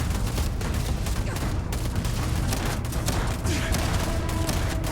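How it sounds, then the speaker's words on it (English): Sustained gunfire from Pragmatist enemies in a video game, dense rapid volleys of shots rattling continuously at moderate distance, with no voices over it. "The Pragmatists are opening fire?"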